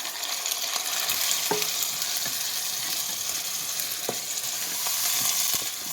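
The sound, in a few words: stirring diced tomatoes into cooking hamburger and onions for chili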